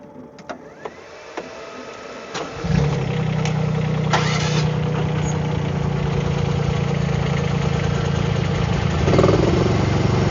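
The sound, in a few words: Ripa R15 and R10 engines starting and idling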